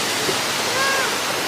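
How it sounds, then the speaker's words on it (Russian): The Gegsky waterfall in the mountains of Abkhazia roars as a close, loud, continuous rush of falling water, an even hiss of white noise that never lets up. "Здесь Гекский водопад."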